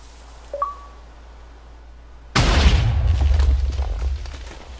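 A Minecraft explosion on Xbox 360: a short electronic ping, then after a quiet pause a sudden loud booming blast that rolls on as a dense roar and slowly fades.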